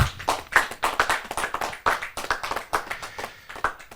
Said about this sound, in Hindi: कृपया डॉक्टर सैयद नज़्म इकबाल जी को सम्मानित करके जा जोरदार तालियों के साथ